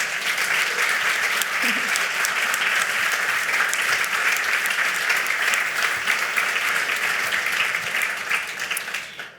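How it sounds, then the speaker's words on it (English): An audience at a circular economy panel session claps for the speakers in sustained, dense applause lasting about nine seconds before tapering off at the end. "please let's give a huge round of applause to the speakers here today"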